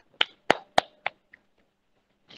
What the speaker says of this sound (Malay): Tepuk tangan sikit.